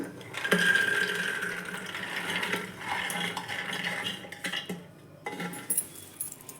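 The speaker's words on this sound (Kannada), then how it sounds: "ಇದು ಕುಕ್ಕರ್ಗೆ ಸೇರಿಸ್ಕೊಳ್ಳೋಣ" Soaked chickpeas are tipped from a bowl into a pressure cooker, making close clinking and rattling of metal and grains with brief scrapes and pauses, no talking.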